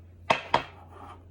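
Rice and sesame seeds are mixed in a bowl for triangle kimbap, giving two sharp, close knocks of a utensil against the bowl, then a soft scraping rub and a third knock.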